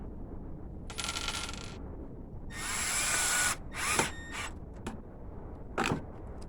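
A power drill drives a 1 1/4 inch screw into plywood while mounting a French cleat tool hanger in a garage, heard as several short whirring bursts separated by pauses, with faint clicks and no speech.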